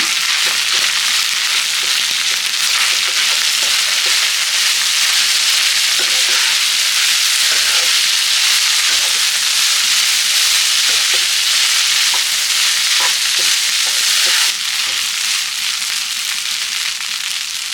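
Garlic rice frying in a pan with sambar powder and pickle powder, stirred steadily: a loud continuous sizzle with scraping spoon strokes and crackles throughout, close up and without talking.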